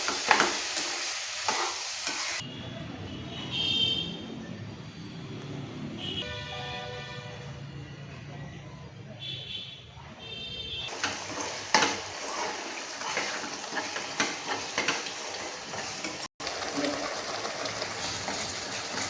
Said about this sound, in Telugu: వాటర్ పోసుకుని కొంచెం ఇలా కలుపుతూ ఉండాలి.